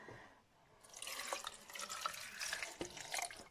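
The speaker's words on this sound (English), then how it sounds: "So I've added a bit of water here because I'm going to be making soup" Water splashes into a pot that already holds chopped potato and celery for soup. The stream is steady and fairly close, starts after a short quiet moment, and runs on with no talking.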